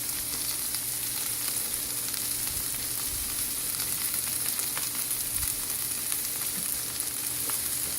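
Cabbage and other vegetables fry in sesame seed oil, a steady close sizzle hissing without a break, with faint stirring clatter now and then and no voices.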